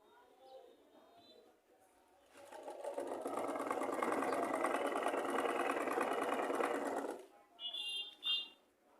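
A sewing machine runs a steady, even burst of stitching for about five seconds, fairly close. Quiet moments before and after carry faint voice-like sounds.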